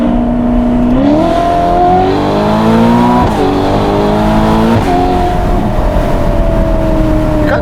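A Novitec-tuned Ferrari Portofino M with 688 hp roars loudly and close up through its aftermarket exhaust. The engine revs up in several rising pulls, easing off and climbing again without a break.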